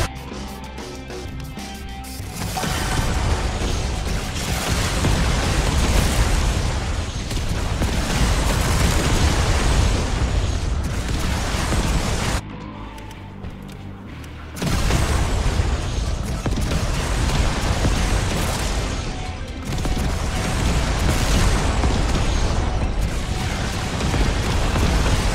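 Rocket launcher explosions in the zombie survival game Yet Another Zombie Survivors, a dense, continuous roar of overlapping booms and blasts with a brief lull midway, loud and unbroken throughout.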